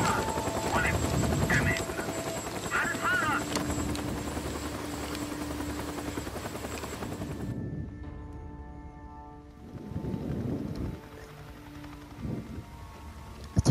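NERO helicopter in Days Gone, a rotor roar with wind and possible distant gunfire that cuts out midway, leaving quieter ambience, speech heard over it.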